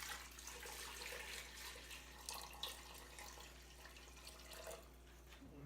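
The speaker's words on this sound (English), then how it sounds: "I'm going to go ahead and pour in the hot water that I had from the lids" Hot water pours steadily into a pressure canner, a continuous faint splashing rush with a low hum underneath, lasting several seconds.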